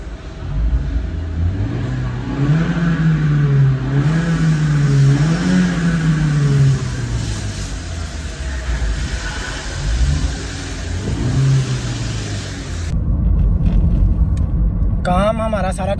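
A Honda Vezel engine, just repaired after injector misfires on several cylinders, revs and accelerates on a road test, the note climbing and falling in waves over a steady road rumble, with people talking throughout.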